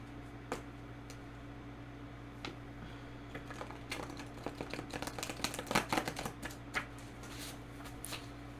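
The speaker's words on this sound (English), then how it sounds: "shuffle these bad boys." Tarot cards shuffled by hand for a reading, a soft crisp riffling and tapping that starts sparse and builds into a denser flurry of quick card flicks near the middle, close and quiet over a steady low hum.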